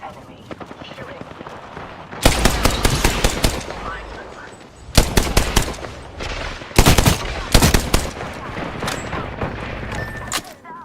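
Gunfire from the video game Apex Legends, loud bursts of rapid automatic shots in several clusters with quieter stretches between, close and punchy throughout.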